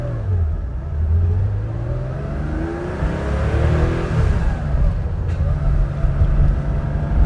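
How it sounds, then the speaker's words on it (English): A 1975 Porsche 911 2.7 Carrera with mechanical fuel injection drives on the road, its flat-six engine droning and rising through revs in smooth sweeps, loud and close from inside the car. "It's 911, you know, it's got the right sound, especially from a mechanically injected car."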